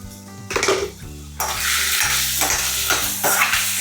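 A spatula stirs potato and spinach sabzi with coriander powder in a hot pan, with repeated scraping strokes against the metal over a steady sizzle of frying.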